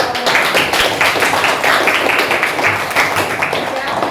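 A classroom of students clapping together, a busy continuous patter of hands with chatter mixed in throughout.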